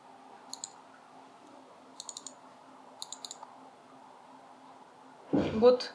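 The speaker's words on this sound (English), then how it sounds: "So clicky keyboard, really." An RGB gaming keyboard with clicky switches is tapped in short bursts of sharp, close clicks, quiet and separated by pauses, over a low room hum, then a brief louder noise at the end.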